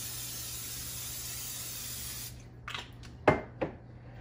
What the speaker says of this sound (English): Now I'm going to coat the bottom of my glass dish with some olive oil spray.